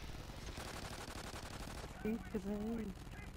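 Automatic weapon fire in Call of Duty Ghosts Extinction co-op mode, a steady rapid rattle of shots running throughout, with a brief tonal game sound near the end.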